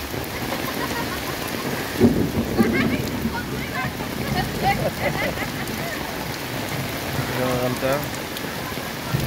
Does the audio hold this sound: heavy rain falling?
yes